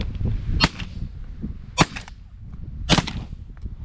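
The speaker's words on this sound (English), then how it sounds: "Shoot it, Drake." Three sharp shotgun blasts spaced about a second apart during a duck hunt, loud and close over a steady outdoor rumble, with no talking.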